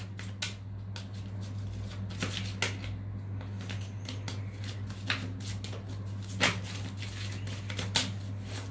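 Tarot cards shuffled by hand close up, a continuous papery riffle broken by crisp slaps and snaps at irregular intervals, over a steady low hum.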